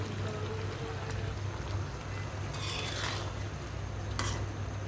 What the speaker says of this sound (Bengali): মশলাটা গরম করতেছি, ডালটাও গরম করবো।